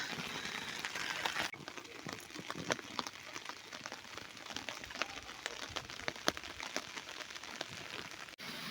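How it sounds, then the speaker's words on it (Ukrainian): Steady rain falls outside a house in Sumy region on a June evening, heard from indoors through a window as a continuous soft hiss scattered with tiny drip and patter clicks, with no talking. "Три години дня дощ не перестає."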